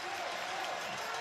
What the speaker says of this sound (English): So the crowd trying to urge this Hawaii team on.